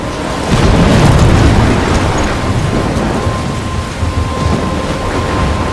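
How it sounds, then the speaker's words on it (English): A video game thunderstorm in Life Is Strange, with dense, loud rain and rolling thunder rumbling continuously throughout, no voices heard. "I'm trapped in a storm?"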